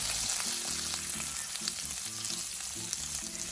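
Shrimp frying in a pan for a sipo egg dish, a soft, steady sizzle with light stirring, joined by faint tonal sounds in the background.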